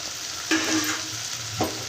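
Tempering for drumstick sambar crackles and sizzles sharply in hot oil, a close, bright frying hiss that flares suddenly and then settles, with a second burst near the end and no talking.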